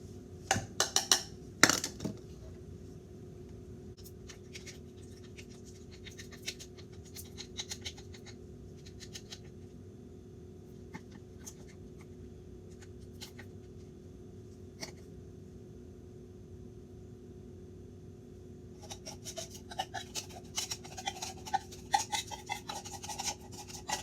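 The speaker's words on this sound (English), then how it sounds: "you have to keep stirring constantly because you don't want it to burn" A spoon scrapes and rubs around a pan while caramel apple dip is stirred, giving faint, irregular rasping strokes with quiet gaps between them and a busier flurry near the end. No one talks.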